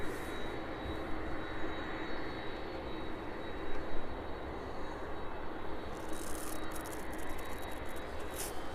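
Boeing 757 on final approach at East Midlands Airport, heard as a steady, broad roar of jet engines that holds evenly throughout with a slight swell near the middle.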